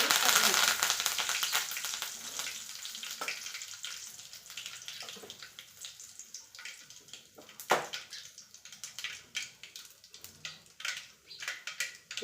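Mustard seeds crackle and pop in hot cooking oil, with scattered sharp snaps over a steady frying hiss that fades gradually, and no talk.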